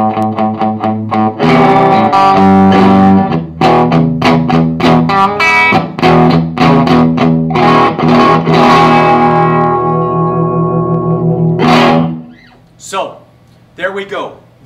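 Electric guitar played through a Fender 1x12 combo amp with the mids cut and some drive and reverb: loud strummed chords and picked notes ringing out, then a fade to sparse trailing notes.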